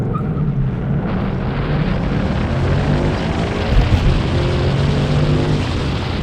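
A 2024 Ford Mustang GT accelerating hard in a 0-60 mph launch, a loud, continuous engine roar that climbs steadily in pitch, heard from inside with heavy wind and road rumble and no talking.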